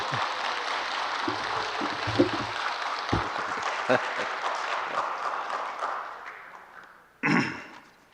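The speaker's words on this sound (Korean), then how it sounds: "큰 박수로 한번 환영해 주시기 바랍니다." A church congregation claps in a sustained round of applause that gradually fades out, followed by a brief burst of noise near the end.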